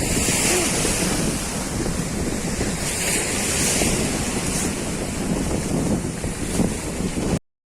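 Ocean waves break on a shore below a raised coastal bank, a loud continuous wash of surf with gusty wind buffeting the microphone, lasting about seven seconds before cutting off.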